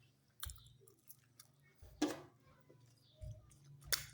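Someone eats an omelette close up, with soft wet chewing and a few crisper bites scattered irregularly over a quiet background.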